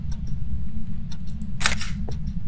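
A photo camera snaps fingerprint pictures inside the Bleasdale farmhouse in Phasmophobia; one bright shutter click with a short whir stands out over a steady low hum, with faint ticks around it.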